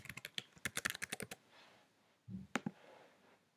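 A computer keyboard typed in a quick burst of about a dozen close, crisp keystrokes, then a short pause and a couple of louder final key presses, with no talking.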